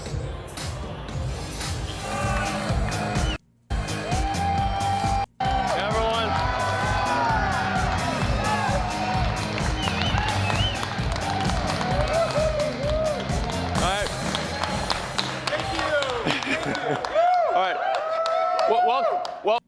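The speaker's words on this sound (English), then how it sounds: "So stop clapping." Audience clapping and cheering at the Tesla Model 3 unveiling, a dense, loud crowd roar with whoops that holds nearly the whole time, briefly cutting out twice, while a voice talks over it.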